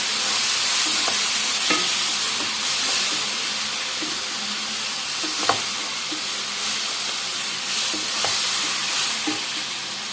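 Tomato puree is stirred into a simmering egg omelet curry, giving a continuous frying hiss with occasional soft taps from the spoon against the pan.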